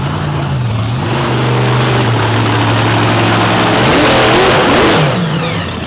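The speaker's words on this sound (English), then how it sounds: "You can hear that big 585 cubic inch power plant in the back going to work." The 585 cubic inch engine of the monster truck Aftershock revs hard at an arena event, a loud, continuous roar that climbs and falls in pitch, with crowd noise beneath it.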